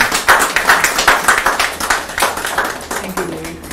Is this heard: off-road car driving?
no